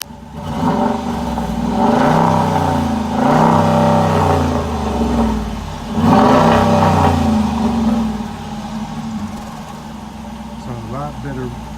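Dodge RT with a 5.7-liter Hemi V8 and Thrush Rattler exhaust, revving in several deep, bassy surges that swell and fall back, close by, with a voice talking over the engine.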